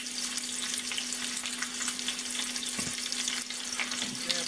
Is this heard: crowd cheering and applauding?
no